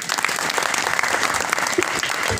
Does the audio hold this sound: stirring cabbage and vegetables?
no